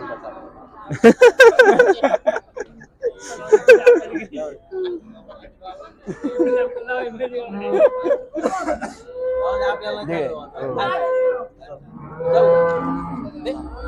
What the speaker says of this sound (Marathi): इथे बघू शकता मागे जो चाकणचा गाय बाजार आहे तो जास्त प्रमाणात आज भरलेला आहे